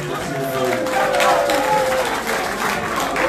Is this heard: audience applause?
yes